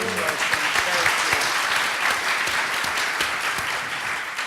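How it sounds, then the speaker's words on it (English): A crowd at a leadership panel event applauds steadily, dense clapping that fills the whole moment without a break. "So another round of applause for Dr. Hernandez."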